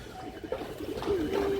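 A large-headed, high-quality male pigeon gives a soft, low coo that rises and wavers, fairly faint against steady background noise.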